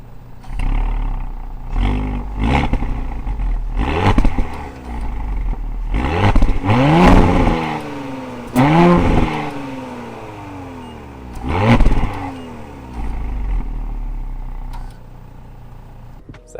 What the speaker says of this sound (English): I'm going to go ahead and start up the car, give it a couple revs